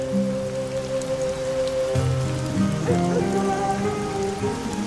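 Steady rain patters continuously, with a low humming drone running underneath throughout.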